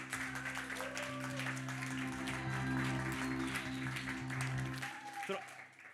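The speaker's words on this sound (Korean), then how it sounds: "또 큰 박수로 격려하겠습니다." Congregation applause at a university students' worship service, moderately quiet clapping blended with a sustained tonal hum and voices talking over it, cutting off near the end.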